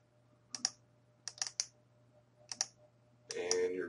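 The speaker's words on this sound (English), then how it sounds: "you're going to type in administrator, and then you're going to put in your credentials here" Short bursts of crisp key clicks on a computer keyboard as an administrator username and login credentials are entered. Three quick clusters are separated by pauses against a faint hum, and a broader rustling noise follows at the end.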